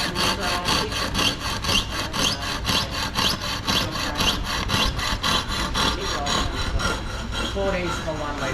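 Rapid, rhythmic rasping scrape of sandpaper polishing a lacquered handicraft surface in a Vietnamese workshop, steady back-and-forth strokes continuing loudly throughout.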